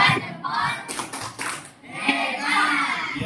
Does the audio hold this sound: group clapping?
yes